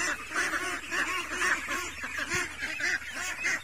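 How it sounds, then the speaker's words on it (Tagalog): Farm ducks quack and honk repeatedly in a busy, overlapping chorus close by, the calls coming in quick rhythmic bursts throughout. "yung mga pato natin"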